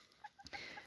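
A rooster gives a few short, soft clucks close by, quiet and brief, with faint farmyard background and no talking.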